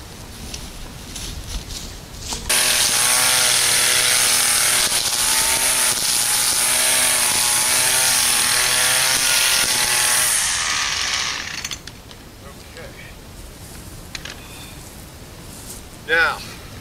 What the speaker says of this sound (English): we're going to have to take our weed whacker and cut an area for us